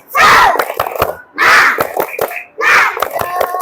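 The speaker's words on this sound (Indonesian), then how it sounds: "Sekali lagi, tepuk semangat." Students in a school physical education lesson perform a rhythmic spirit clap, chanting in loud group shouts punctuated by sharp, patterned hand claps in three bursts, close and energetic.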